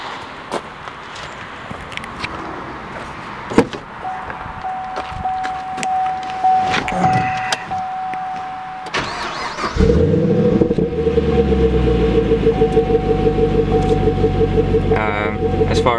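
A 2015 Camaro SS fitted with a Spectre cold air intake cranks and fires about two-thirds of the way in, after quieter shuffling sounds, then settles into a loud, steady, rumbling idle up close.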